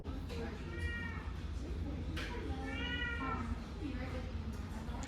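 A cat meows repeatedly from the back seat of a car, several clear drawn-out calls over a steady low engine and road rumble, fairly close.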